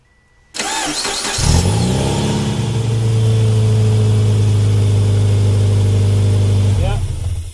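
A car engine turns over briefly, catches and settles into a steady, loud idle for several seconds before shutting off. The car is being tested for an EVAP check-engine fault.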